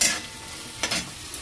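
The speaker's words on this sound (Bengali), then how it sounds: "তো চলো পেঁয়াজটা ভাজা হোক" Onion fries in a pan with a close sizzle and quick scraping stirs, with a couple of brief bursts of louder scraping.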